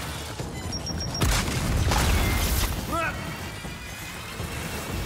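Frag grenade detonation in the Gears 5 video game, a loud booming blast with a rumbling tail and debris clatter, heard amid gunfire and game effects while a player talks over it.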